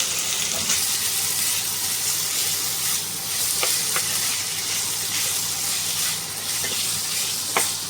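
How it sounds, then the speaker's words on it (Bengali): Chicken pieces frying in hot oil, a dense, even sizzle filling the whole stretch with a few faint clicks of a utensil, no talking over it. "তার জন্য যে দেখো তেল গরম হয়ে গেছে, এবার চিকেনটা দিয়ে দিচ্ছি"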